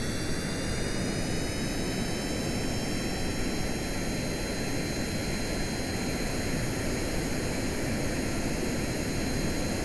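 Steady jet engines of an aircraft in Kerbal Space Program roar continuously for the whole stretch, a dense even rumble with a high whine on top, loud and unbroken, with no talking.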